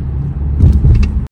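A car pulls out of a parking lot in Korea, with a steady low engine rumble close by and a slight swell partway through, then a sudden cutoff at the end.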